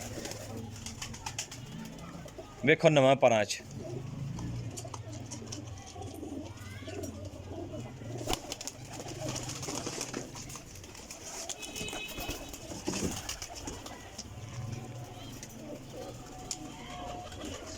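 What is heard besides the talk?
Rampuri pigeons cooing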